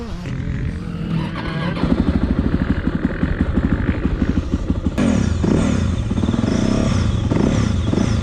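A 2023 Yamaha YZ450F motocross bike rides at a track, its loud engine revving and throbbing up close with rapid pulsing and a sharp gear-change jump partway through, staying strong throughout.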